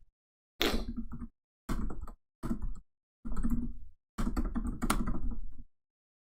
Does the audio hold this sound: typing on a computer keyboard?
yes